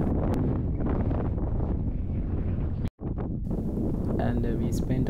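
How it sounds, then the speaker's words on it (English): Strong wind at Shakespear Regional Park, a seaside park near Auckland, roars continuously across the microphone as loud, buffeting broadband noise, with a brief dropout near the middle before the gusting resumes. "the only problem is this huge wind is blowing"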